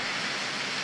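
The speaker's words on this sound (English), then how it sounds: "The rain's pouring down." Rain pours down in a film scene, a dense, steady hiss of heavy rainfall with no break across a very short moment.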